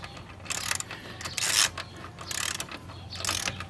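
A ratchet wrench clicks in several short bursts during a car brake pad and rotor replacement, the metallic pawl rattling close and fairly quiet with brief pauses between strokes, no talking.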